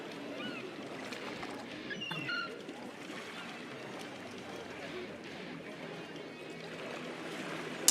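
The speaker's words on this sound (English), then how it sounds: "the sound of ocean waves, and birds or seagulls chirping in the background" Coastal ambience at the sea: a steady wash of ocean waves with a few faint seagull and bird calls in the background, continuous and even throughout.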